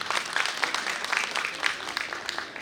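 Steady applause from a crowd at a conference, dense overlapping claps at moderate volume filling the whole stretch without pause.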